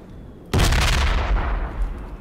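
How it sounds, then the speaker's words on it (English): A grenade blast in the military shooter Project Reality: a sudden loud boom about half a second in, followed by a long rumbling, crackling decay that fades slowly. "Still a grenade landing on us."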